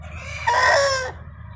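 A chicken lets out a single short, strained crow, loud and close, with quiet background noise before and after.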